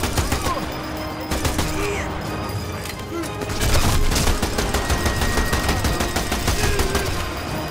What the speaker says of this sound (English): I'm using my machine gun for good purpose right now.